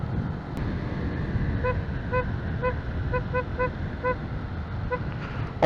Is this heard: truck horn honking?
yes